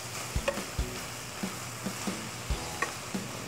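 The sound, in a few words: meat frying in pan, broken into small pieces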